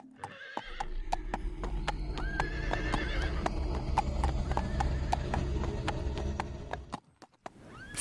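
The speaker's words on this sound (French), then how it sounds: "un cavalier surgit, cap au vent, sur un cheval blanc" A white horse gallops with rapid, rhythmic hoofbeats, rising whinnies cutting through now and then, close and fairly loud before the hooves stop near the end.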